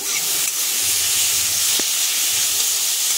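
Grated papaya chutney fries in a pan over medium to low flame, giving a loud, continuous hiss like steam, with faint scraping from a light stir.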